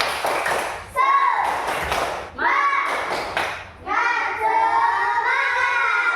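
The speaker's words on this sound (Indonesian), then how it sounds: "Sebelum itu coba tepuk semangat." Schoolchildren in an Indonesian classroom perform a rhythmic spirit clap in three short bursts of patterned hand claps and thumps, with kids' voices chanting along close by.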